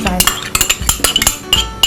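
A spoon scrapes and clinks against a dish while scooping out homemade egg yolks, making quick irregular metallic taps and scrapes, close and fairly clear, with no talking.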